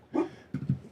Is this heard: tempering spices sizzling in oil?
no